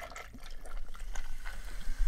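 Sprite or 7-Up soda poured into a fishbowl cocktail, a steady close fizzing and bubbling pour with small splashes throughout; no voices.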